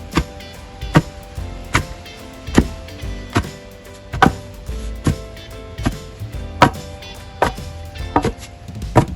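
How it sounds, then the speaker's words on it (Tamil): Pestle pounding a palmyra sprout mixture with grated coconut in a mortar, about a dozen sharp, heavy thuds at a steady, unhurried pace, close and loud, with no talking. "இப்போ தேங்காய் பூவையும் சேர்த்து இடிப்போம்."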